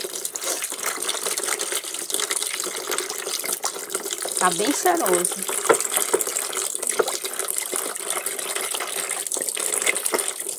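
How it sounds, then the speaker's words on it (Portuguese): Tap water runs steadily into a mixture as soap is dissolved into a softener, a continuous splashing flow heard beneath someone speaking Portuguese. "Eu vou desmanchar com a água da torneira mesmo."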